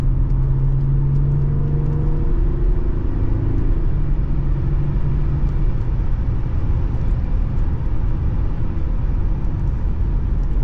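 A diesel SUV laps a race track with a continuous loud engine drone and road rumble, steady and close throughout with no pauses.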